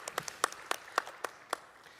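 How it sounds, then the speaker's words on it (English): Audience applause for conference panelists at a session on just and inclusive energy transition, heard as a short, fairly quiet patter of scattered claps that thins out over two seconds. "Please give them an applause."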